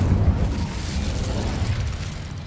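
A fire spell bursting in the Hogwarts Legacy video game, a loud rumbling boom that rolls on as a dense, fading roar for a couple of seconds with no voices.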